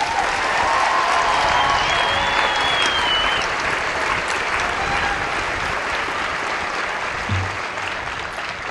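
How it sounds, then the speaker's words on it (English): Sustained, loud audience applause for graduates at a military training squadron coin ceremony, a dense wash of clapping that holds steady and eases slightly toward the end. "So let's give them a round of applause."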